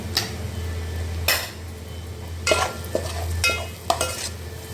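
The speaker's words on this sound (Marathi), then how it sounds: "तर आता व्यवस्थित परतून घेऊया" Chicken masala being sautéed in a pan, with a steady low sizzle under repeated scraping strokes of a spoon against the metal, several distinct stirring passes spaced a second or so apart, close and fairly loud, no talking.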